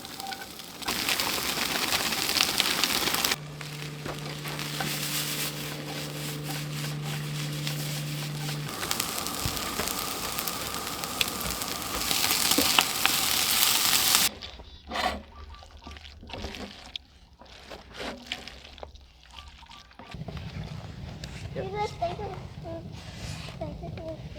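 Beef, peppers and onions sizzle in a hot pan at a winter teardrop-trailer campsite, a steady broadband hiss that runs loud for about fourteen seconds, then drops quieter and more crackly as people talk nearby.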